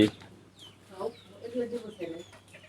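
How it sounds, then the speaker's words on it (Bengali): Chickens cluck softly nearby at a village home in scattered, overlapping calls, with faint chirps and a quiet background hum. "অনেকগুলা মুরগি দেখুন আমাদের বাসায়"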